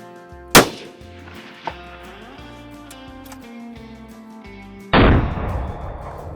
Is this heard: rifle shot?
yes